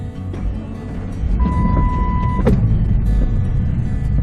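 A car sets off on an Alaskan road near Valdez, steady engine and road rumble with a brief electronic tone and a sharp click partway through.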